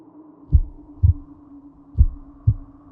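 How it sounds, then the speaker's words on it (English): Four deep, low thumps of a heartbeat beat at an uneven pace over a faint steady hum, muffled and close. "He can hear his heart pounding."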